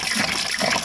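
Liquid pours steadily into a 5-gallon bucket, a loud continuous gushing splash filling the whole short moment with no talk over it.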